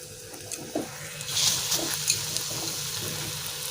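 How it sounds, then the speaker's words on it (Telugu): Vadas shallow-frying in a little oil in a pan: soft, uneven sizzling and crackling with occasional stirring scrapes and clinks, fairly close and quiet throughout. "డీప్ ఫ్రై చేయకుండా కొంచెం ఆయిల్లోనే చేస్తున్నాం"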